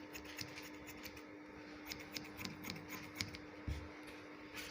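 Sharp scissors trim fabric while a sewn patch pocket and placket are finished, giving a run of crisp, close snips at an uneven pace, with no talking.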